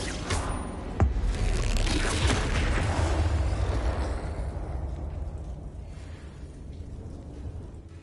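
A Confringo explosive spell blast in Hogwarts Legacy, one sharp booming burst followed by a long rumbling roar that slowly dies away.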